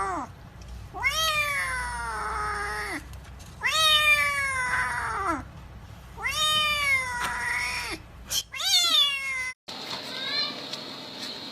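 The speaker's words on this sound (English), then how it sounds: "This little kitten hurt its leg and needed to be wrapped up." An injured little kitten with a hurt leg meowing loudly and plaintively, four long drawn-out cries with pauses between, followed by a shorter squeak, close to the listener.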